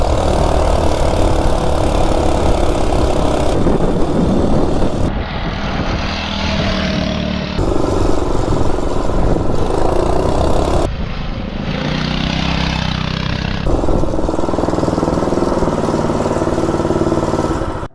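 A Coleman RSV minibike engine with the stock head revs hard through a 0 to 30 mph run, loud and close, its drone rising and falling in repeated surges as it shifts and pulls.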